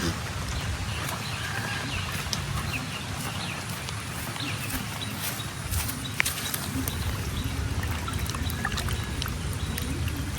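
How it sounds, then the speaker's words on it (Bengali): Gourd leaves are swished and rinsed in pond water while rain patters on the surface, making a continuous close splashing and trickling wash with scattered small drips. "পুকুরের বেশি পানির মধ্যে একবারে ধুয়ে লয়ে যাই আমরা"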